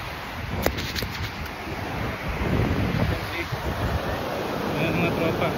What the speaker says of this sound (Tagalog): so nandito na tayo sa dagat.